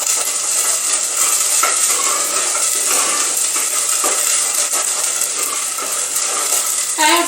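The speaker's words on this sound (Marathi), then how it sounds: "आता हे आपण भाजून घेऊया मसाला" Onion masala paste made from raw and roasted onion, roasting and being stirred in a pan for a prawn-head curry, giving a steady loud sizzle with repeated scraping stir strokes throughout and no talk.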